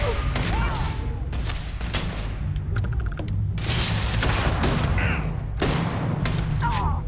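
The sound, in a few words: shotgun gunfire in the video game Starfield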